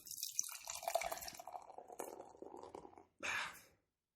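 Blonde coffee stout beer poured from a crowler can: a steady liquid splash and gurgle runs for about three seconds, then a short, louder burst of pouring before it stops.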